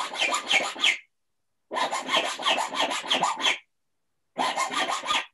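Hand files rasp against metal setting claws in three bursts of quick back-and-forth strokes, close and crisp with short pauses between.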